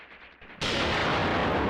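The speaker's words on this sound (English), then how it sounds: "Yes, artillery is striking." Artillery lands in a WW2 battle game, opening with quiet ambience and then a sudden loud, sustained roar of blasts and rumbling debris that fills the scene with no voices.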